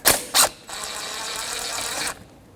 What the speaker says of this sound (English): We're going to take the flex hose off, 14mm socket.